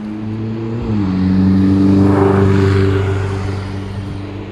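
A Ferrari Roma passes on the Fiorano circuit, its engine note rising and swelling as it approaches, then easing away, with a steady loud mid-range drone throughout.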